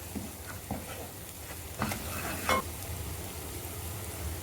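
Garam masala and chilli powder roasting in oil in a pan for paneer masala, a soft continuous sizzle with a few spoon scrapes and stirring knocks, close and alone.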